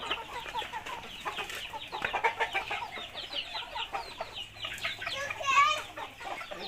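Chickens being fed at evening, clucking and calling in a dense, continuous flock chatter with a few louder squawks, close by and fairly steady throughout.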